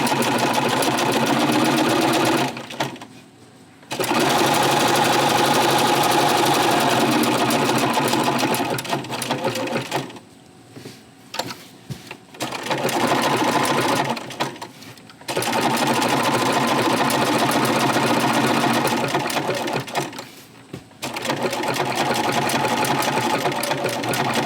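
A sewing machine stitching a small quilt block, running in long steady bursts of rapid mechanical chatter close to the microphone, separated by a few short pauses.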